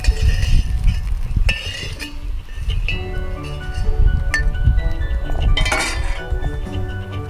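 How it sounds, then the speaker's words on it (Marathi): Green chillies being pounded in a traditional stone mortar with a pestle: steady close crushing, grinding and knocking with occasional clinks, continuous and fairly loud throughout, with no voices. "आता आपण खलबत्त्यात वाटणार आहे ही मिरची."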